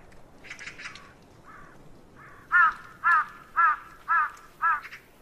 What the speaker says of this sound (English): Crows and magpies often give away a tiger's presence.